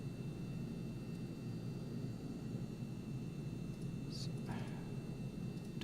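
A seaplane engine holds a low idle in Microsoft Flight Simulator 2024, a faint, steady droning hum that carries evenly throughout.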